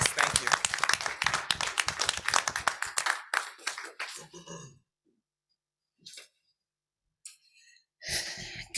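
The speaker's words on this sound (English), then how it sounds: "they demand a round of applause because if we say we're committed to this work, they deserve an applause" Dense audience applause fills a board of education meeting for about three seconds, then thins into scattered claps and goes quiet, with brief talk and shuffling sounds afterward.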